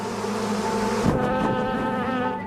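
A dense, steady buzzing of a swarm of African bees fills the whole clip, loud and continuous with a wavering drone.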